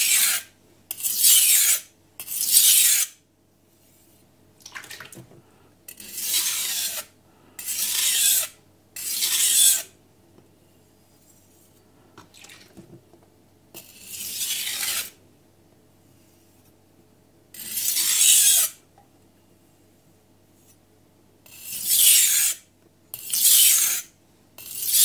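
A kitchen blade is drawn across a Miyagoshi whetstone in repeated gritty, rasping strokes, grouped in short runs with pauses between, close and clear in a quiet room.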